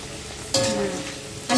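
Oil sizzles sharply as crackers drop into a hot pan, a steady frying hiss with a second burst of crackle near the end.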